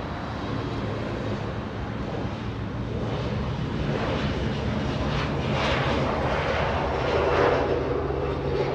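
Air Force One, a jet aircraft, departs northbound from Los Angeles International Airport, a broad roaring engine rumble heard from a distance that swells gradually and stays steady throughout.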